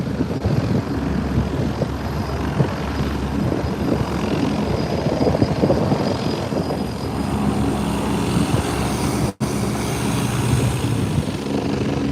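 An Agusta helicopter departs from an airfield, its engine and rotor rumbling steadily and fairly loud for the whole stretch with no talking, broken only by a brief dropout near the end.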